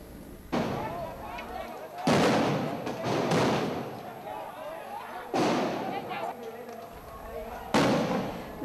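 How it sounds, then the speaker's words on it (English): Tear gas rounds fired by riot control police at protesters outside Parliament, heard as loud broadband booms and bursts repeating every second or two, some longer rushing blasts, over constant crowd noise and a voice. "This is the firing of round after round of tear gas by the riot control police against the PAD protesters"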